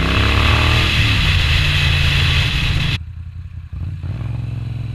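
A Moto Guzzi V9 Roamer 850cc with an Agostini exhaust rumbles loudly while ridden, a throaty pulsing twin-cylinder roar that holds strong, then drops off sharply and returns at a lower idle-like thrum.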